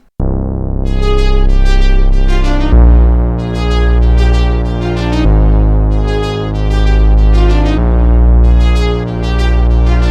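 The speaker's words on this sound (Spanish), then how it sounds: "Le voy a meter un bajo muy a lo synth pesado usando el Minimoog y tocando las notas" A loud, heavy Minimoog synth bass pulses in a simple repeating pattern while a bright, brassy trumpet-like lead line plays on top, dense and continuous.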